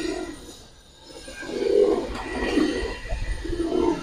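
Giribaz and colored pigeons coo softly in low, rolling phrases that rise and fall against a steady background hum, with no voices.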